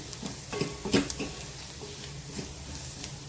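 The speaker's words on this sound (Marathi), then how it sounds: "छान मसाले आपल्याला तेलावर परतून घ्यायचे आहेत चमचा धनेपूड टाकते" Spices and coriander powder sautéing in oil in a pan for a home-style dinner dish, heard as a low sizzle with several scraping stirs of a spoon against the pan, fairly quiet and close, no talking.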